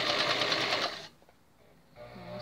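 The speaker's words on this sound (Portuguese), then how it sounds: "Sempre o retrocesso no começo e no final da costura." A sewing machine stitching a seam on a fabric puppet, a rapid loud mechanical chatter for about a second, a short pause, then another brief burst of stitching as it reverses.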